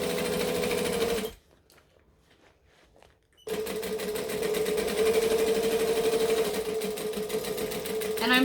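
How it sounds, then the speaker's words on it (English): Sewing machine stitching and back-stitching a bag, a loud steady mechanical whir that stops for about two seconds, then resumes and runs evenly. "I'm going to stitch and back stitch"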